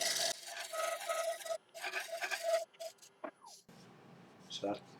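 A lathe tool scraping the edge of a turning wooden bowl and lifting thin wispy shavings, heard as close, rough rasping strokes with brief gaps and a couple of sharper scrapes near the end.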